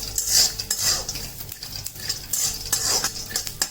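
Peanuts roast in a pan as a utensil stirs them, giving repeated scraping and rattling strokes of metal over the pan with a faint sizzle beneath. The sound is close and even, with no talking.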